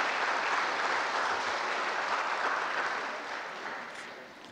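A church congregation claps for a speaker in a continuous, fairly distant wash of applause that holds steady and then slowly fades toward the end.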